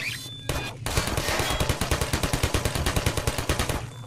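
Rapid automatic gunfire from a firefight in Half-Life 2, loud and close, a dense rattling burst of evenly spaced shots that continues without pause for several seconds after a short opening crack.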